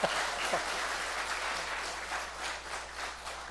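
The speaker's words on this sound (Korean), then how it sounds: "왜 박수를 치십니까?" Scattered, moderately dense clapping from a congregation at a Korean gospel meeting, continuous and mid-distance for a few seconds.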